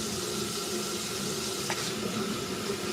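A tap runs steadily while someone rinses off, a continuous broadband hiss of flowing water held at an even level throughout, close by and with no voices.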